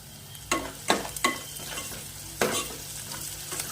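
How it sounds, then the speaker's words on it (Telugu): Onions frying in a pan for a Telugu curry, sizzling steadily as a spoon stirs them in several distinct scraping strokes, close and fairly quiet with no talking. "ఆనియన్స్ రెడ్గా అయ్యేదాకా వేగించాలి"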